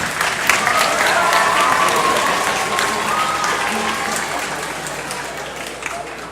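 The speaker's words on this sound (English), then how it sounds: "Let's have a nice round of applause for Amy Kempton." Sustained applause from a large audience in a high school auditorium at a young people's concert, loud and steady before slowly tapering off near the end.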